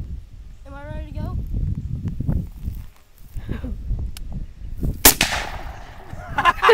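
A single gunshot fired outdoors at grass, a sharp loud crack near the end, preceded by people talking and some handling noise.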